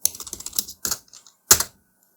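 Fast, loud keyboard typing of an npm install command, a quick burst of keystrokes up close, then a couple of heavier key presses like the space bar and enter, with no talk.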